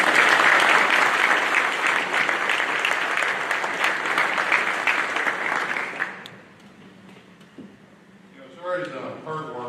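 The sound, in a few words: audience applause at awards night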